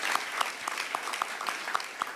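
Audience applause at an annual meeting: a steady wash of clapping from a seated crowd, with individual sharp claps standing out in an even rhythm, moderately loud throughout and no talking.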